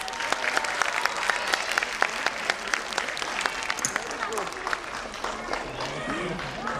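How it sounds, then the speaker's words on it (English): Audience applause for teachers at a play group and nursery annual day show, a dense steady wash of clapping from a large crowd lasting throughout, with some faint voices mixed in. "A big round of applause for our dear teachers."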